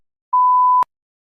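A single clean electronic beep from a TOEFL speaking practice test prompt lasts about half a second, loud and steady, ending in a sharp click, then silence.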